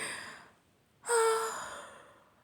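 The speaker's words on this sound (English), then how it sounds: "I'm yawning because that's an energy" A single long breathy exhale fading out, followed by a louder open-mouthed yawn with a brief vocal tone that trails off slowly.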